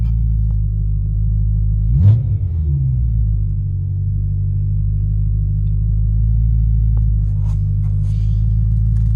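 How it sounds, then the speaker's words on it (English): A BMW M3 track build fitted with Evolve test pipes gives one quick, light throttle blip over a steady low exhaust rumble, the brief rev rising and falling sharply before settling back to idle. "That is a very, very light touch of the throttle."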